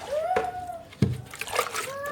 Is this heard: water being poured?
yes